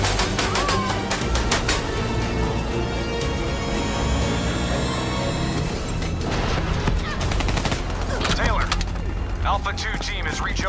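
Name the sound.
gunfire in Call of Duty Black Ops III video game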